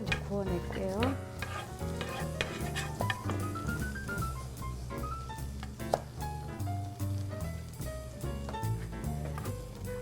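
Bread pieces toast in a pan with a little added fat, for garlic bread served with a Caesar salad, giving a continuous sizzle and occasional stirring scrapes under prominent background music.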